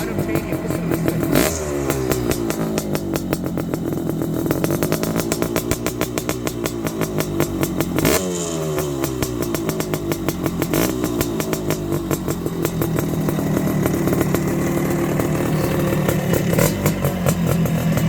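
A 1975 Bultaco MK8 Pursang 250 two-stroke motorcycle with an original NOS Spanish exhaust pipe revs hard and repeatedly, its engine note sweeping up and down in loud, close blips over a constant raspy drone.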